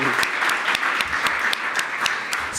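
Audience clapping at a conference event, a continuous burst of many hands applauding together at moderate loudness with no talk over it.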